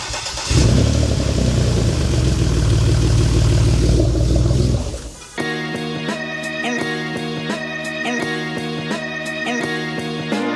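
A car engine turns over and catches, running loud and rough for several seconds before the sound shifts to steadier, lower mechanical noise.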